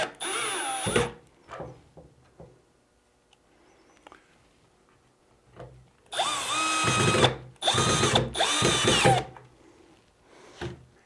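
A power drill drives screws into a wooden hanging rail for an upper kitchen cabinet, with two or three loud, sustained whirring bursts close by, separated by quieter handling knocks and pauses.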